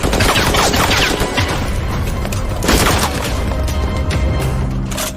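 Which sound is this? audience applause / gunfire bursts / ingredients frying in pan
gunfire bursts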